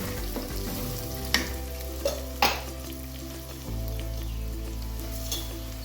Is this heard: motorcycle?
no